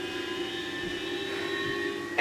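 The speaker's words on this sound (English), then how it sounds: "It uses those gravity compensation engines." Film sound effect of the Thunderbird 6 airship's gravity compensation engines: a steady, droning hum with sustained tonal whine, constant and unbroken, ending with a brief louder burst.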